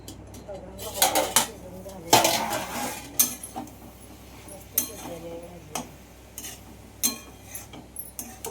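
Metal utensils clink and clatter against a pot of onion curry as a lid is handled and set in place, with irregular sharp knocks over a quiet background and some speech.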